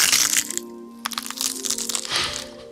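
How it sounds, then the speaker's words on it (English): Bone-breaking sound effect played unfiltered: bright, sharp cracks and crunchy snaps in a quick irregular cluster, close and crisp, with a faint tonal hum underneath. "Now for the texture, we did the bones breaking."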